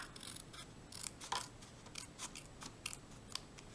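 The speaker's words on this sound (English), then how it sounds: "So I'm going to just trim a little bit off here." Scissors snip a small paper treat box, a quiet series of crisp individual cuts spaced irregularly, close up and alone.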